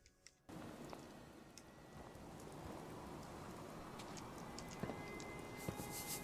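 Steady rainfall in Fallout 4, a continuous soft patter with scattered sharper droplet ticks throughout, ambient and even, with no voices.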